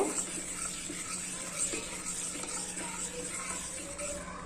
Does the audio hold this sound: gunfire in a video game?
no